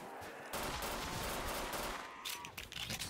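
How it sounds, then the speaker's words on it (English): Dense bursts of gunfire and blasts from a video game, loud and continuous, with rapid crackling shots throughout and no talking. "Explosions."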